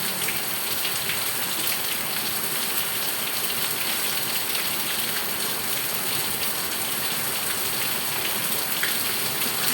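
Heavy rain pours down without letup, a dense, loud, even roar of drops on surfaces that stays constant throughout with no talking.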